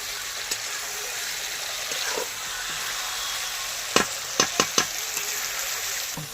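Chicken kosha sautéing in a pan in a village mud-house kitchen in winter: a steady sizzle throughout, with a run of sharp spoon-scrape knocks near the end as the meat is stirred.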